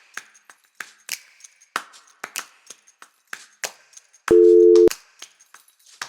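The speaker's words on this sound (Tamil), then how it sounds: "சேது ஃபோன் எடுக்க மாட்டேங்கிறானே" Phone rings out unanswered, a steady electronic tone sounding once amid sharp irregular clicks and knocks, fairly near and with no voices.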